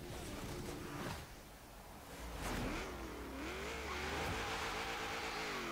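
A 1991 GMC Syclone in Forza Horizon 3 accelerating hard, its engine note rising and falling through gear changes, steady and close, with a brief tire squeal and no talk.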